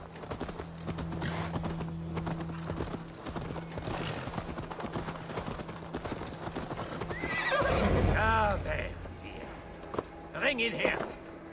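A horse's hooves clip-clop steadily while voices talk over them, then the horse whinnies loudly near the end, in the video game Assassin's Creed Valhalla.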